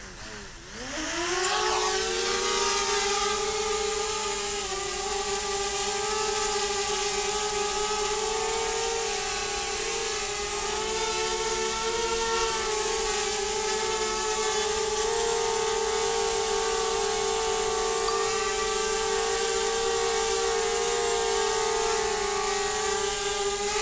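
A DJI Spark drone lifts off, its small propellers spinning up quickly into a loud, steady high-pitched buzz that holds close and constant throughout.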